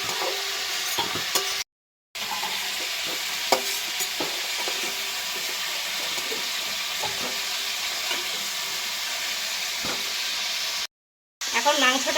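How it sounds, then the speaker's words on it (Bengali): Chicken pieces fry in a pan of oil and are scooped out with a strainer, a dense, even sizzle with occasional clinks of metal, steady and close, cut by two brief silent gaps. "এবার আমি তুলে নিচ্ছি, তেল থেকে ছেঁকে ছেঁকে তুলে নিচ্ছি।"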